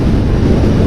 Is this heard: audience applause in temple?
no